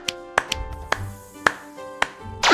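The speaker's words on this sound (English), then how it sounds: "Pop, 5 flying bubbles." Cartoon bubbles pop one after another, a series of short, bright plinks spaced unevenly over a couple of seconds, close and clean against a quiet background.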